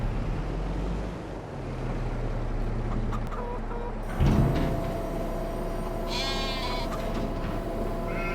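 Sheep bleat in a farming simulator game, a couple of short bleats rising over a constant low engine-like drone and background ambience, with a louder burst near the middle.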